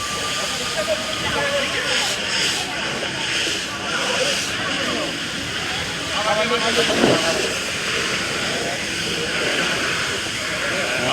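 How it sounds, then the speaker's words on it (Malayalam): Fire brigade crews put out burning two-wheelers at a police station in Kottarakkara; a steady, loud broadband hiss of spray runs throughout, with voices mixed in. "ഫയർഫോഴ്സ് അണച്ചുകൊണ്ടിരിക്കുന്നു"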